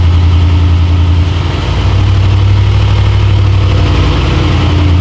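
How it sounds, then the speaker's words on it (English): A 2008 Ford F-150 pickup engine idles loudly and unevenly nearby, its low rumble wavering slightly in pitch and rising briefly partway through, after a mass air flow sensor replacement. "you can tell the idle's going up and down a little bit."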